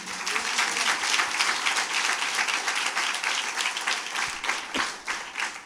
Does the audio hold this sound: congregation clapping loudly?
yes